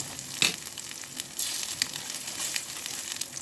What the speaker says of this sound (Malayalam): മുട്ട വറുത്തെടുക്കാം.